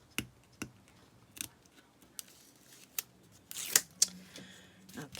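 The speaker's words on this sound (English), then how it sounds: "Peel the tape off." Backing tape being peeled off a craft piece, with a few sharp separate clicks and snips followed by a brief rasping rip near the end, close and fairly quiet.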